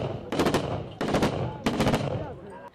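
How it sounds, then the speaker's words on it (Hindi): Celebratory gunfire at a Pathan wedding in Pakistan: three long bursts of rapid automatic fire, loud and close, each lasting about half a second with brief pauses between, over a noisy outdoor background. "इधर गन चल रही है। हाँ यार उधर स्टॉल पिस्टल भी चल रही है"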